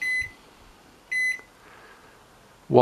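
A Neff H11WE60N0G microwave oven with a cup of water inside gives two short, clear electronic beeps about a second apart, followed by a brief burst of sound at the end.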